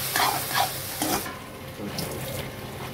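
Potatoes stirred in a pan for a potato and cauliflower curry, with a few scraping stir strokes early on, then a steady soft sizzle continuing close by, no talking.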